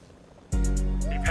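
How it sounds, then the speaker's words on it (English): Helicopter flying in a video game, a loud steady rotor drone that starts abruptly and holds continuously for about a second, with a rising whine near the end. "Why do I hear another helicopter?"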